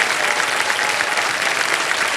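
A studio audience on a televised quiz show bursts into sustained, dense applause, a continuous wash of clapping with no voices.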